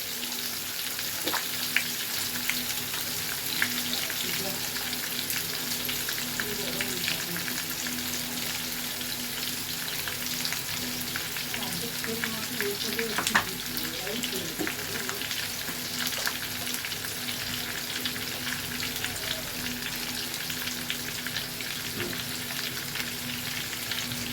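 Potato pieces coated in salt and turmeric fry in oil for alur dom, a long, even, hissing sizzle that stays constant throughout, dotted with occasional light stirring ticks and no speech.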